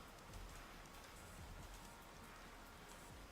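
Rain in Planet Crafter, a steady, faint hiss of drops pattering on surfaces throughout, even and unbroken with no voices.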